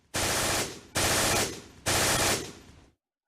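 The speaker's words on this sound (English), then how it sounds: "Our machine gun would be the best thing to suppress that with." Machine gun fire in the Close Combat war game comes as three loud, evenly spaced sustained bursts, each fading slightly before the next, then silence.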